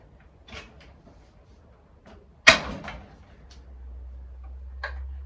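A sharp creak and clack as a small hinged wooden nesting box door on a chicken hen house swings open, followed by faint rustling and a low steady hum in the background.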